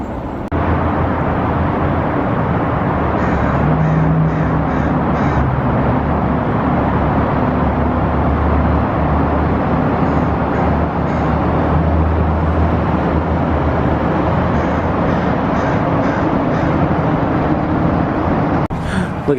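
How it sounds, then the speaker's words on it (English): Cars crossing the bridges of downtown Portland, Oregon, a continuous low traffic rumble heard from a distance with no voices. "See a ton of cars going over the bridge."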